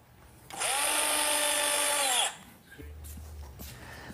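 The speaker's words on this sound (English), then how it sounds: "now we'll just secure everything in place using some 1 1/4 galvanized screws" A power drill whines at steady high speed for about two seconds while driving a 1 1/4 inch galvanized screw into wood, close and loud, then stops and leaves low handling noise.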